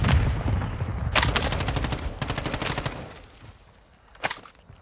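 Video game gunfire in a multiplayer shooter, with several quick automatic bursts at mid distance over a noisy background, then a single sharp shot near the end.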